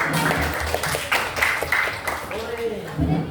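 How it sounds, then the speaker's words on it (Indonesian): A school classroom group breaks into a counselling-session clapping routine: a fairly dense stretch of hand claps, with overlapping children's voices and chatter around it, close and moderately loud. "Tepuk tangan."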